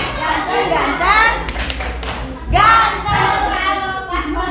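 A group of children claps a rhythmic chant, tepuk ganteng, in a classroom, with sharp hand claps and taps landing in quick bursts under chanting voices.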